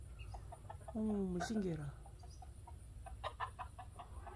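A chicken gives a short burst of clucks near a rabbit outdoors, one clear drawn-out squawking cluck followed by softer scattered clucks, with a voice speaking over part of it.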